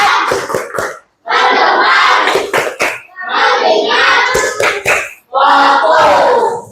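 A classroom of schoolchildren performs the "tepuk fokus" clapping routine during an Indonesian language lesson, with bursts of sharp rhythmic claps alternating with loud group chanting in several close, energetic phrases.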